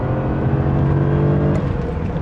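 A BMW E31 850i V12, in poor condition, pulls hard at full throttle, its loud smooth engine drone rising steadily from inside the car.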